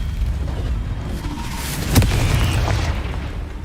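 Confringo blasting spell explosion in the Hogwarts Legacy video game: a single sharp burst near the two-second mark rising out of a loud, steady low rumble, with the boom decaying back into the background roar.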